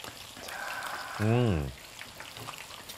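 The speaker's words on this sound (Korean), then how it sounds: "요 튀기는 소리는 그냥 아주 그냥 언제 들어도 네, 언제 들어도 그냥 힐링이 즐겁습니다." Meat in a thin batter coating frying in hot oil gives a soft, steady crackle and sizzle, close and quiet throughout, with a brief low tonal hum partway through.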